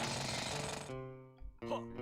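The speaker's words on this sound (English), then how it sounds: "maybe if I drill" The drill move in the Banjo-Tooie video game gives a brief, loud jackhammer-like rattling burst that cuts off and is followed by a short tonal game sound.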